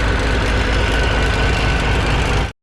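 A heavy diesel engine on land-clearing machinery, likely a dozer, runs at a steady loud drone with a deep low rumble for about two and a half seconds, then cuts off abruptly.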